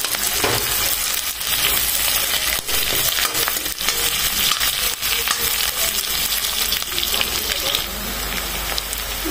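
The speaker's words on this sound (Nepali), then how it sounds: "प्याजलाई गोल्डन ब्राउन हुनेसम्म थोरै भुटौँ, फ्राई गरिदिउँ।" Sliced onions sizzle and fry in a hot pan for a chicken curry, a steady dense crackle with occasional stirring scrapes, close and loud with no voices.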